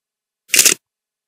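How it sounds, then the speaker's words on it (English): A single crisp camera shutter click, a short bright burst alone in silence. "I've already imported a camera shutter sound effect"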